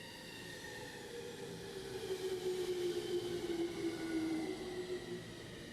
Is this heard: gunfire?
no